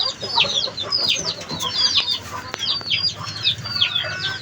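Chickens cluck repeatedly in short, rhythmic bursts nearby, with a few sharper calls over a quiet background.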